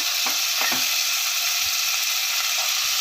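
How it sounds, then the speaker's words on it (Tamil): Chopped tomatoes sauté in hot oil for a vegetable kurma: a steady, close sizzle with a few quick stirring scrapes early on. "தக்காளி சேர்த்துட்டு நல்லா வதக்கி விட்டுறலாம்"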